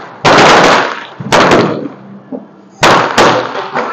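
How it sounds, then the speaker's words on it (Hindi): Diwali fireworks and firecrackers exploding nearby in loud, sharp bursts, four heavy blasts with crackling tails separated by brief quieter gaps. "ओ वहां सारा आतिशबाजी हो रहा है"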